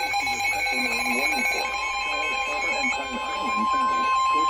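A NOAA weather radio station, WXC-83, sounds its Emergency Alert System marine warning: a loud, continuous, steady electronic alert tone dominating the clip, with faint data-like warbles underneath.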